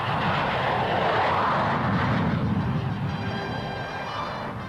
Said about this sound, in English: Generalissimo and Madame Chiang Kai-shek watch a demonstration of the fighters' capabilities on their delivery to a Formosan airfield.